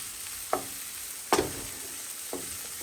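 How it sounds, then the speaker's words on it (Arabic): Chicken breast and champignon mushrooms sautéing in a pan for a creamy risotto, a steady quiet sizzle broken by three short clatters of a utensil stirring against the pan. "وغندير معاها شويه الشابيني. هاي كتشحر."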